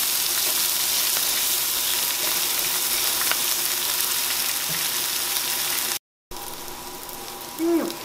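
Onions sizzle steadily in butter and pan drippings, a close, even frying hiss that runs throughout, briefly cutting out before resuming with a faint stir or scrape.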